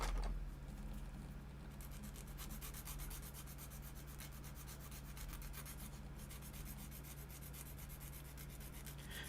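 A model kit part is sanded to trim about a millimeter off its top, giving a faint, continuous rubbing and rasping scrape of fast repeated strokes over a low steady hum, with no voices.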